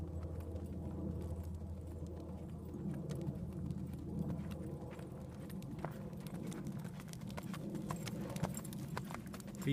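A horse in a riding lesson moves off into a canter, with faint, steady hoofbeats thudding and clip-clopping across the ground over a low background hum, somewhat distant and without speech.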